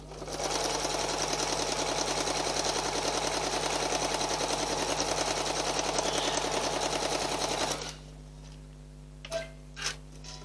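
A sewing machine runs steadily for about eight seconds, stitching decorative stitches in a circle, with a dense even mechanical chatter, then stops, leaving a low hum and a couple of soft clicks.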